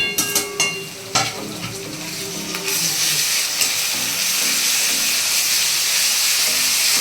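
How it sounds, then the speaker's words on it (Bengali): Garlic stirred and fried in a pan for a broiler chicken curry: a loud, steady sizzle and hiss with a few scrapes of the spoon early on, then continuous frying with no talk. "রসুনটাকে এভাবে একটু নেড়ে চেড়ে দেবো, কাঁচা গন্ধটা চলে যাবে।"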